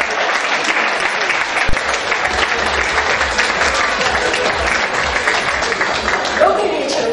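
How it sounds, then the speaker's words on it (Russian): Steady, loud applause from a large crowd fills the whole stretch, dense and continuous with no pauses. "Аплодисменты, друзья!"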